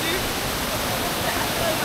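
Steady, loud rush of waterfall water at Ajodhya Pahar, a continuous broadband roar with no breaks, close by and filling the whole moment.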